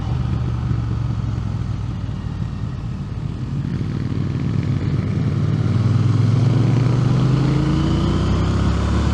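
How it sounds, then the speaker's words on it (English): A Triumph Speed Twin 1200 RS parallel-twin motorcycle is ridden on the road, its engine droning loud and steady at close range, with the pitch slowly rising as it accelerates. "And this parallel twin sounds great."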